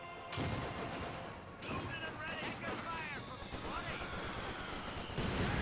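Mortar blasts and bursts of gunfire crackle through a Company of Heroes 2 battle, several sharp reports and rattles at moderate level under a commentator's talk.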